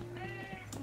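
A single short, thin cat meow, strained and bleating in tone, faint over a steady background hum.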